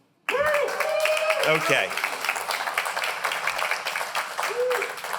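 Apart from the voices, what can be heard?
audience clapping and cheering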